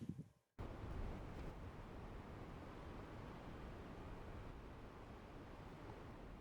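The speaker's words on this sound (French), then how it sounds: "Le vent souffle." Steady, strong wind roars across the microphone on a snowy mountainside in the far north, in a broad buffeting rush after a short quieter moment at the start.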